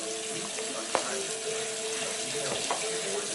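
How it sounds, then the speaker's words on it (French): Warm water being poured into flour for homemade tortilla dough, a steady trickling pour running throughout at close range with a faint tap near the start. "On ajoute l'eau."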